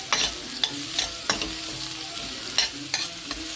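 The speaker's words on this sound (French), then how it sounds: "je vais bien sûr remuer de temps en temps" Stuffed courgettes filled with minced meat and cheese are stirred in a pan of sizzling sauce, a constant loud frying hiss broken by a few sharp scraping strokes up close.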